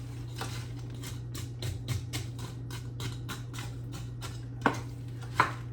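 Spoon scrapes and taps against a pot, fairly quiet and steady, as onion is stirred into a green pepper casserole mixture, with two louder knocks near the end over a low background hum.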